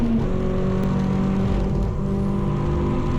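A race car laps the Donington Park GP circuit during a trackday championship round, its engine droning loudly and steadily from close by, as if heard inside the car.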